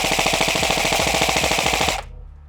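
A Lancer Tactical LT-35 Gen 2 9mm pistol caliber carbine fires one long full-auto burst, a loud, rapid and even string of shots that ends abruptly after about two seconds, leaving faint ringing.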